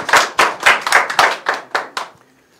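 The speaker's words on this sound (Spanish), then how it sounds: "Un aplauso a eso." About eight sharp hand claps in a quick, slightly uneven rhythm, loud and close, from a small group, then a fade to quiet.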